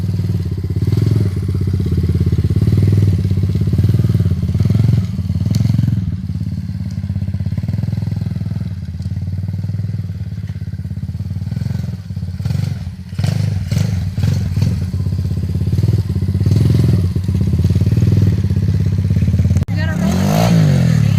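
A Kayo TD125 dirt bike engine runs steadily in first gear for about twenty seconds, a loud low rumble with small throttle changes and a brief rev near the end, with occasional clattery thumps mixed in.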